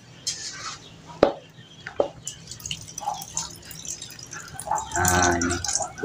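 Water drips and splashes while ground corn is drained, in scattered close taps and trickles, with a short fuller pour of liquid near the end.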